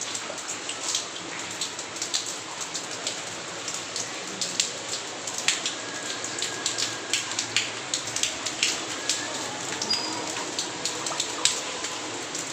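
Monsoon rain falls steadily with a soft, constant hiss, punctuated by frequent sharper drips and patters on nearby surfaces.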